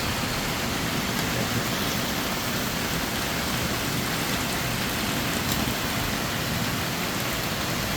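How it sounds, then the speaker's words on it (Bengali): Heavy rain heard from a second-floor home, a dense, unbroken roar of downpour on surfaces, loud and steady throughout. "সাংঘাতিক লেভেলের বৃষ্টি হচ্ছে"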